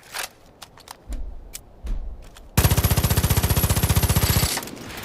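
Rifle gunfire in the shooter game Division of Arms: a few separate semi-auto shots ring out, then a long, loud, rapid run of rhythmic automatic fire fills the second half, close and dominant with no talk.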